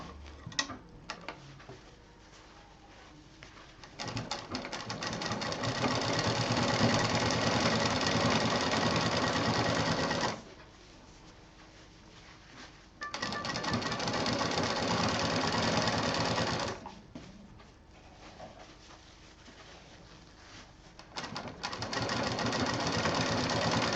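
A sewing machine stitching closed the bottom of a handbag, a steady close mechanical whirr in long runs that stop twice for short quiet pauses, with no talking.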